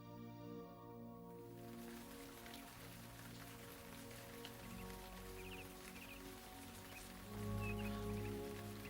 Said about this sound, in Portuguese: as gotas de chuva batem nas folhas, reduzem a velocidade